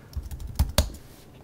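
A password tapped out on a Mac computer keyboard, a quick run of soft close-up keystrokes with two firmer key presses near the middle.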